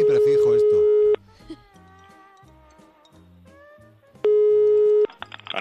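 An old landline telephone line tone sounds as two long, steady, loud beeps, with voices talking in the gap between them.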